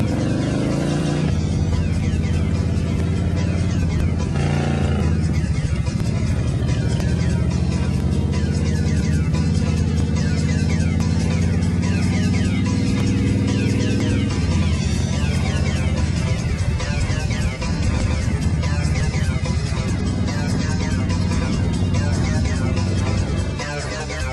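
A Vengeance Banshee motorcycle engine roars loud and close while being ridden, holding a dense, continuous drone that rises and shifts in pitch as it accelerates, with wind noise over it.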